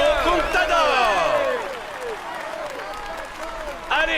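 A large outdoor crowd at the Tour de France podium ceremony applauds and cheers, with shrill whistles and horn-like calls swooping over the clapping before it thins out.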